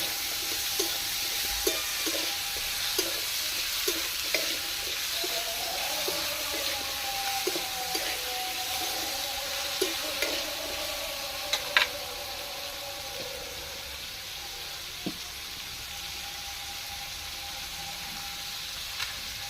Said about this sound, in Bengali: আলুগুলো খানিক্ষণ ভেজে নেব